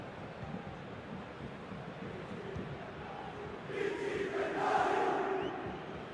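A stadium crowd in the football video game FC 24 during a Hellas Verona versus Juventus match, a steady distant murmur that swells into a louder cheering roar.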